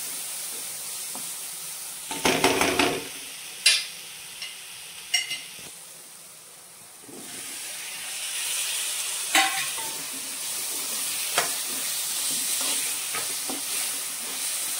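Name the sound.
sautéing prawn curry with potatoes in a pan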